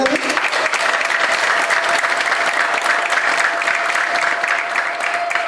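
A church audience breaks into loud, sustained applause in praise of God, dense clapping throughout with a faint voice beneath it.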